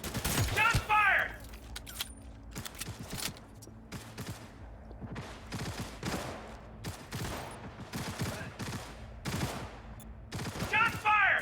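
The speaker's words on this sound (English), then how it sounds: "Shots fired!" Loud bursts of gunfire in a Cyberpunk tabletop-style session, repeated volleys spread across the clip with rapid fusillade clusters, under occasional voices.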